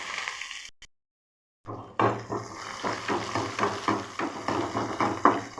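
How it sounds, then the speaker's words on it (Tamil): Onions sizzling with fennel seeds in hot oil for a mutton bone curry, a steady crackling fry with repeated stirring scrapes, broken by a brief silent gap near the start. "சோம்பு போட்டு தாளிச்சாச்சு. வெங்காயம் போட்டிருக்கோம்."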